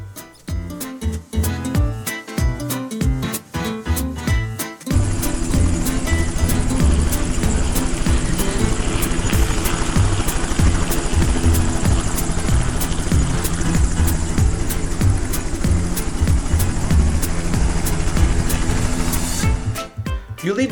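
A helicopter roars loudly overhead, its rotor thumping at first before becoming a steady, dense whirring that holds for a long stretch, then cuts off.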